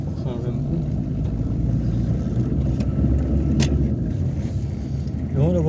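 A Peugeot 205 XTD drives along with a steady low engine drone and road rumble from inside the cabin, while people talk over it throughout.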